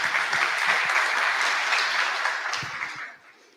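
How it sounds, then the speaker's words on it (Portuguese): Audience at a national education congress lecture applauds a professor, a dense burst of clapping that holds steady for about three seconds and then tapers off toward the end. "Uma salva de palmas para a professora."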